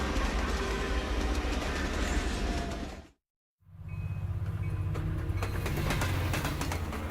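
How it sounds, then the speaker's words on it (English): A passenger train rolls through the Canadian Rockies with a loud, steady rumble and clickety-clack of wheels on rails, cut by a brief gap of silence before continuing. "Breakfast is being served as the train rolls east through the Canadian Rockies."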